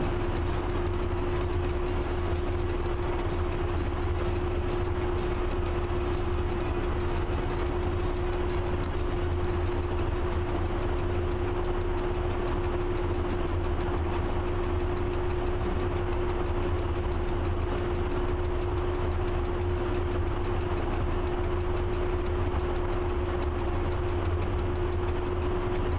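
A freight train in the Train Driver 2 game hums steadily from inside the cab, with a constant engine drone and a sustained tonal whine over low rumbling, unchanging for the whole stretch without speech.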